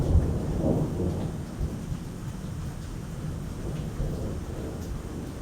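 Rumbling thunder with steady rain falls during a Florida lightning storm at an island hotel, low and continuous with a few swelling rolls, no voices.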